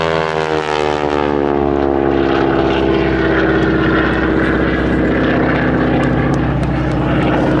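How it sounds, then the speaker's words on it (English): A North American T-6 Harvard 2B propeller aircraft makes a loud, close pass at an air show, its engine droning steadily with a rich harmonic growl that shifts in pitch as it goes by. "Typified by this aeroplane coming in for its final pass before departing, the Nordai Harvard"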